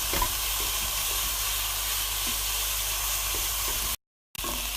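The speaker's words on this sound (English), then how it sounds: "And now in goes our ground beef, and we'll cook that until it gains colour." Ground beef frying in a pan for macaroni béchamel gives a steady, loud, close sizzle and hiss with faint stirring scrapes, broken by a brief silence near the end, with no talk.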